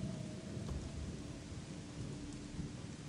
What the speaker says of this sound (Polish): Nie przestanie chyba padać